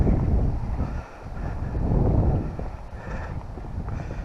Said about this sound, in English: Glad the wind found us. I thought it was lost.